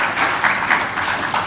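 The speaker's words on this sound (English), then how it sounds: "Let us appreciate him with a better round of applause." An audience at an annual human rights summit gives a brief, dense round of applause, steady clapping filling the hall for a second and a half.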